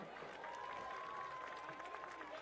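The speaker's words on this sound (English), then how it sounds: "Ladies and gentlemen, let's hear it for Nick." Crowd applause at a 2018 Penn Hills vs Baldwin school game rises steadily for a senior being introduced, a dense, fairly distant wash of clapping with a faint sustained tone running through it.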